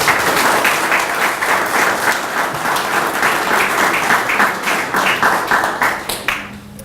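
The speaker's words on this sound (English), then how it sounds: "if you give him a round of applause" A school arts-achievement awards audience in Fayette County applauds for an absent student, Parker: dense, steady clapping fills the hall for several seconds, then thins and fades near the end.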